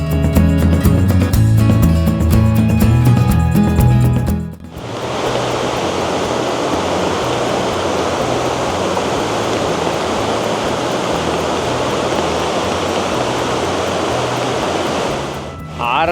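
Rushing water at Irupu Falls during the monsoon: a steady, loud broadband roar that starts after a few seconds of music and continues evenly to the end.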